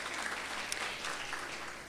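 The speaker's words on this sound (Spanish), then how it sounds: "vamos con aplausos." Audience applause at an inauguration ceremony, a steady bed of clapping from a crowd heard at moderate distance, continuous through the short span with a sharper clap standing out briefly.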